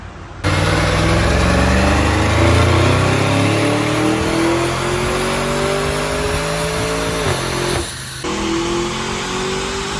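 An Audi SQ7 engine on a dyno winds up through the gears, a loud close rising roar climbing steadily in pitch, dropping briefly at a shift near the end before pulling again.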